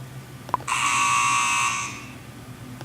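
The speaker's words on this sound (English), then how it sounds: "how about a game buzzer?" A game buzzer alert from an iPhone countdown timer app blares once, a harsh sustained buzz lasting just over a second, with faint clicks around it.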